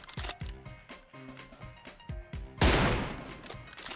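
Gunfire in the mobile battle royale PUBG Mobile comes as a string of rapid clicking shots over game music, then one big, loud blast that washes out into a noisy, fading tail.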